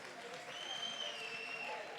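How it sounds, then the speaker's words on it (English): Audience applause at a business and investors seminar in Mpumalanga comes as a soft, distant pattering of many hands. A thin ringing tone hangs over it and faint voices mix in. "A round of applause for Temba."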